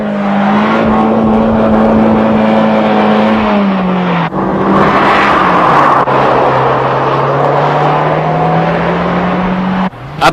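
A 2-litre, 220 hp turbocharged Ford Escort RS Cosworth engine drones loudly and steadily, its pitch holding, dipping briefly, then settling lower with a brief lift near the end, close and continuous with no voices.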